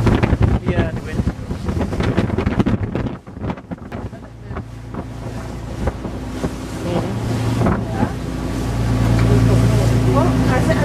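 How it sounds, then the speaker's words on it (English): Strong wind buffets the microphone aboard a boat touring Loch Ness, with choppy waves slapping and washing along the hull, rising louder toward the end while people talk in the background. "They're proper sea waves in a fairly ordinary calm season"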